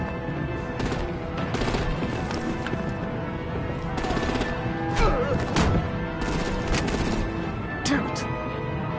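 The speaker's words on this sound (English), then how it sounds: "Break out the artillery and disable their vehicles!" Artillery and rapid gunfire erupt in a Batman video game, bursts of sharp shots and clattering volleys crackling repeatedly over a dense, continuous din, with voices speaking in between.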